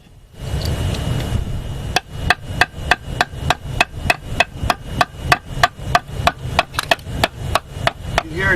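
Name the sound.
hammer tapping concrete block, sound changing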